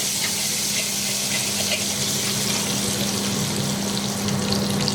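Garlic and ginger cooking in an oiled pan for chicken chaat, a dense, even hiss of frying that stays constant throughout, with a faint low hum beneath.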